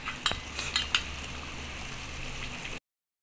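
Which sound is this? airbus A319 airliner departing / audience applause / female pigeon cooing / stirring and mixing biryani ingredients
stirring and mixing biryani ingredients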